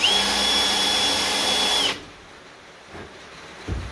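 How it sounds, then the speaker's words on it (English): A power drill bores a hole through a bolt head clamped in a collet block, its high steady whine running for about two seconds before cutting off, followed by quiet handling and a couple of soft knocks. "Our hole is now drilled. It is also chamfered."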